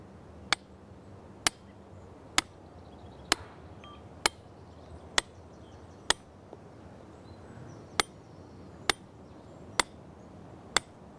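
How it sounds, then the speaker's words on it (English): Sharp metallic hammer strikes on an iron wedge driven into rock ring out one by one at a steady, unhurried pace, about a dozen blows, each clear and isolated against quiet outdoor background. "this, of course, has a nice sliding action when you beat it with the hammer"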